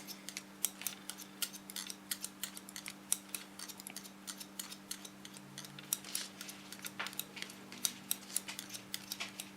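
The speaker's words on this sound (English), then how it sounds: "I lay it on the scissor. So the blades are much more in rest while I'm cutting hair" Scissors snipping through hair during a short haircut, a rapid irregular series of crisp close clicks and snips over a steady low electrical hum, no voices.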